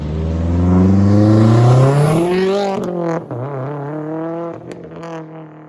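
A Subaru STI engine revs up loudly with a rising aftermarket exhaust roar, then drops and blips again in several sharp throttle bursts, close by.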